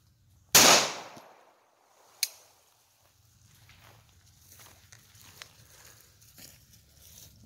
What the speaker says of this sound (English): I'm going to be shooting at the Dr. Pepper bottle out on the table